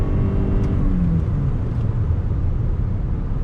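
A 2021 Toyota RAV4 Prime plug-in hybrid drives with a steady, loud engine and road rumble, a low whirring drone that shifts slightly in pitch, with no one talking.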